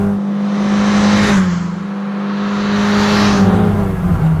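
A 240 hp all-wheel-drive MINI accelerating hard at full throttle, a loud, droning engine note that rises steadily in pitch, heard from inside the car with no talking.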